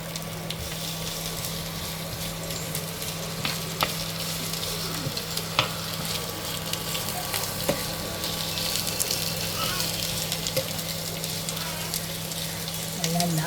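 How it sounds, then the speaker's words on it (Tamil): Onions and green chillies sauté in oil for a chicken ghee roast, making a steady, dense sizzle with occasional light stirring clicks close by. "பச்சை மிளகாய் போடுவோம். கொஞ்சம் வதங்கட்டும்."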